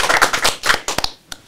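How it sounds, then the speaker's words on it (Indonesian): A brief burst of scattered hand claps from a small group in an Indonesian military podcast studio, a handful of quick claps close to the mic, then fading into one last isolated clap. "Tepuk tangan dulu"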